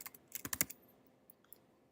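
Rapid bursts of clicking keystrokes on a computer keyboard, a quick cluster of taps followed by a few sparse, fainter presses in a quiet room.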